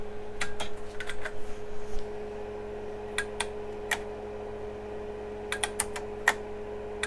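Keys on an AT&T PC 6300 computer keyboard clack in short bursts and scattered single presses, crisp and close, over a steady low fan hum, with no talking.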